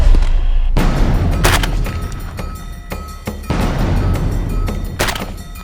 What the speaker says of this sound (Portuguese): Este é um momento em que não deve faltar o tiro ao alvo.